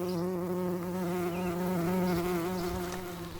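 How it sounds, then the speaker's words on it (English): Loud, close buzzing of bees, a dense steady drone with shifting pitch and no other sounds. "Thousands of bees fill the sky's vast dome, buzzing loud"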